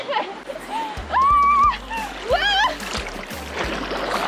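Someone steps into icy cold winter water at the Canaveilles hot spring, with close splashing and sloshing while a voice gasps and cries out in high-pitched yelps.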